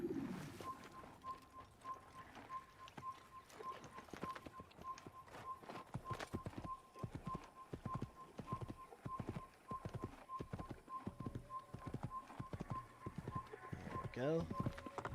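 Horse hooves clip-clop steadily in Assassin's Creed on PC, a continuous rhythmic trot with birds cooing and chirping around it and someone talking over the top.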